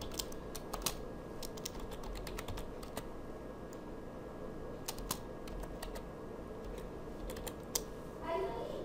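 Letters typed on a computer keyboard: rapid, irregular key clicks in short bursts, close and fairly quiet over a steady background hum.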